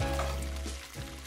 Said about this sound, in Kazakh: Енді сковородкаға май құйып,